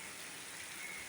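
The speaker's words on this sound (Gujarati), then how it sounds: "કેટલો બંધો વરસાદ છે." Heavy monsoon rain falling on flooded farm fields, a dense continuous hiss of downpour close by, alone with no voices.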